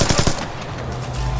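Gunfire in Splinter Cell Blacklist multiplayer: a quick burst of three or four close, sharp automatic shots at the start, followed by a short stretch of game ambience.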